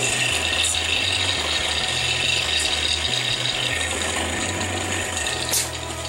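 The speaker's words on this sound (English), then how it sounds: "there is something rattling loose inside that thing that really starts rattling at 25 hertz" A subwoofer driven by a steady 25 Hz test tone buzzes and rattles continuously from a loose part inside the cabinet. The rattle is loud and close, with a few brief louder clicks near the end and no talking.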